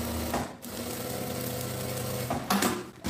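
A sewing machine stitches a makeup bag along its bias binding, a steady close whirring drone that stops briefly, then picks up again with a louder burst.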